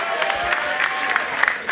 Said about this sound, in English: And applause for both the fighters.